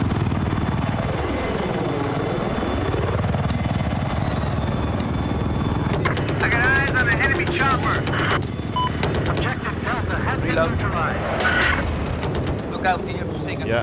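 Battlefield 4 gunfire: rapid bursts of shots crackle loudly over a steady helicopter rotor drone and a sweeping engine whine, with dense volleys in the second half.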